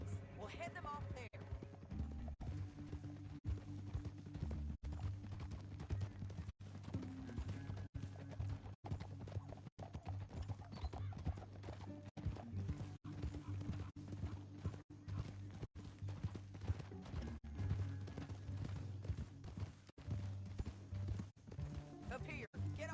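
Steady clip-clop of horse hooves in the video game Red Dead Redemption 2 runs under a voice, joined by a low constant hum and scattered game sound effects.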